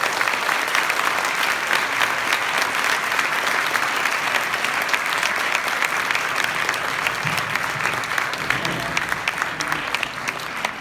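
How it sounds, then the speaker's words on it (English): Sustained applause from an audience, dense steady clapping that carries on for several seconds and slowly tapers near the end. "a final round of applause for"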